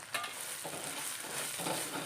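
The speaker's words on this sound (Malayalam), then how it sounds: "നന്നായിട്ട് മൂത്ത് വരുന്നിടം വരെ നമുക്ക് ഇങ്ങനെ ഇളക്കി കൊടുത്തുകൊണ്ടേയിരിക്കാം" Crushed coconut sizzles in oil in an iron kadai while a utensil stirs it, a steady close frying crackle with soft scraping throughout.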